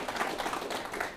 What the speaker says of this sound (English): just give them a round of applause for what they've done